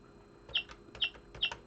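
A toy electronic keyboard plays its synthesized square-wave duck sound effect three times in an even rhythm, each a short buzzy chirp, fairly faint against a quiet background.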